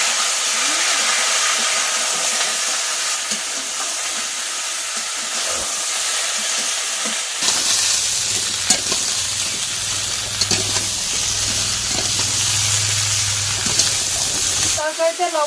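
Vegetables hit a pan of hot oil just after fish has been fried, giving a loud, steady hissing sizzle that shifts partway through and gains a low rumbling hum beneath the crackle.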